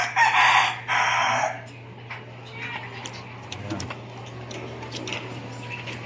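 Hens in a backyard flock cluck and a rooster crows loudly at the start, followed by quieter scattered clucks over a steady low electrical hum.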